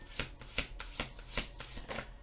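Oracle cards being shuffled by hand in quick, rhythmic riffling bursts about twice a second, close and fairly quiet, with no talking.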